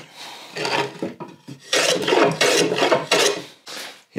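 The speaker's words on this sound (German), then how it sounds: "Kanten breche ich jetzt mit dem Hobel." A hand plane shaves along the edges of a wooden board being built into a Christmas tree nail picture, making about six short, close rasping strokes separated by brief pauses.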